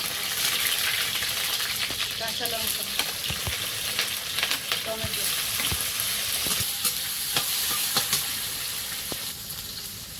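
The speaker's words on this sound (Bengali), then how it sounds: "আর একটা কড়াই বসিয়ে তেল দিলাম এবার পেঁপের তরকারি হবে ভাতও প্রায় হয়ে যাওয়ার মতো হয়ে গেছে তেলে একটু কালো জিরে" Black cumin seeds sizzling in hot oil in a wok, a dense close crackle and hiss with sharp pops and stirring clatter, fading slightly at the end.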